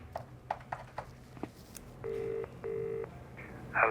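A telephone call rings out on the line, with a few soft clicks followed by two long, even ringback tones and a brief fainter tone, heard quietly over a low background hum.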